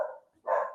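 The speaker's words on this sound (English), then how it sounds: "My dog is barking at your siren." A dog gives two sharp barks in quick succession, fairly close and loud, set off by a passing fire truck siren, with a short gap between them.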